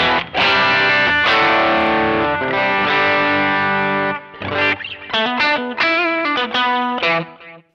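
An electric guitar played through a direct pedalboard with Horse preamps, Fender-style tone with a Bluesbreaker and delay plus reverb engaged: sustained distorted chords ring out, then shorter rhythmic stabs follow, loud and alone.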